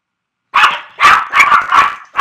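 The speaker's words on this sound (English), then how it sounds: "Okay, they're going to keep barking." Dogs bark loudly and close by in a run of four or five sharp, rapid barks, with no talk heard over them.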